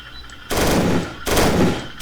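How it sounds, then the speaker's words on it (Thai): Rapid automatic gunfire in a Minecraft World War II tank battle game comes in two loud, sustained bursts, then a third begins, with short quiet gaps between. "ยิงปืนเข้าไปก่อน"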